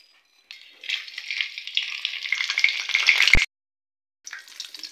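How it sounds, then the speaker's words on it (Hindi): Whole spices, including black cardamom, cumin seeds and black peppercorns, crackle and sizzle in hot oil, a steady close frying hiss that swells over several seconds, cuts off abruptly after a sharp knock, then resumes briefly. "खड़े मसालों को हम लोग 30 सेकेंड तक ऑयल में किड़किड़ाएंगे"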